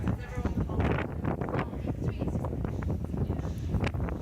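Gusty wind buffets the microphone with a steady rumbling roar, rising and falling in uneven bursts, at London's Euston station.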